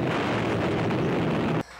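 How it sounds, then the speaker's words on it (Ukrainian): A British WWII aerial bomb from 1945 detonates underwater in a canal, producing a loud, sustained roaring blast that cuts off abruptly into quieter rumbling. "Ось так вона здетонувала, призвівши до невеликого землетрусу."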